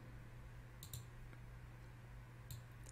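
Mouse clicks at a computer while form fields are added in a web form builder: a couple of short, faint clicks spaced apart over a steady low hum, with no talking.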